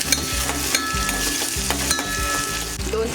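A mustard seed, cumin, green chili and tomato tempering sizzles in a pan while a spoon stirs it in steady repeated strokes, close and fairly loud, with no talking.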